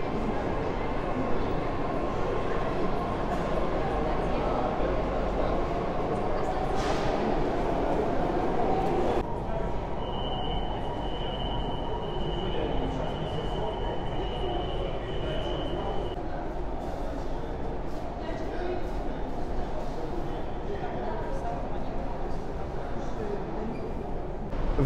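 Steady rumble of a St. Petersburg metro train running between stations on the line out to Krestovsky Island, loud and continuous throughout with a brief high tone midway and faint voices in the background.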